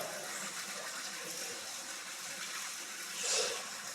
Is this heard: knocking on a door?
no